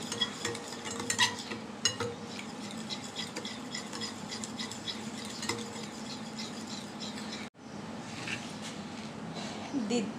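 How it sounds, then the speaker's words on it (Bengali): Egg and sugar are beaten in a bowl with rapid, steady scraping and clinking strokes, close up and fairly quiet, broken by a brief pause near the end. "ভালো করে ডিম আর চিনিটা একটু ফেটিয়ে নিচ্ছি"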